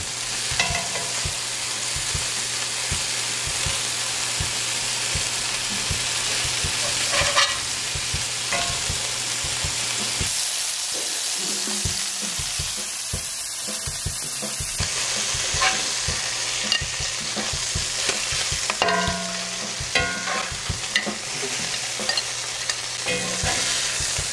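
Burgers frying in a cast iron skillet with onions give a steady, close sizzle that runs unbroken throughout, punctuated by occasional scraping and clinks of a spatula as the patties are flipped; no one speaks.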